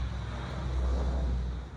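A loud car passes close by, its low engine rumble and road roar swelling toward the middle and fading at the end, with no voices.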